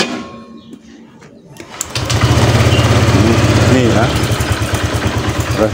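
A motorcycle engine with a newly fitted exhaust starts up after a brief spoken remark, then settles into a loud, steady, fast-pulsing idle close to the listener.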